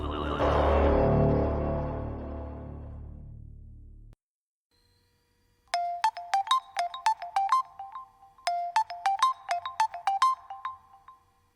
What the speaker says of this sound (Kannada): ಮೇಡಮ್, ಫೋನ್ ರಿಂಗ್ ಆಗ್ತಿದೆ.